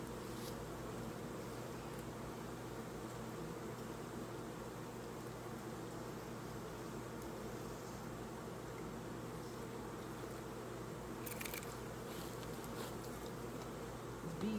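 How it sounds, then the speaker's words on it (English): Honeybees buzzing around an open hive during an inspection, a faint, dense, continuous hum of many insects with no pauses, steady in level for about fifteen seconds. "There's bees everywhere."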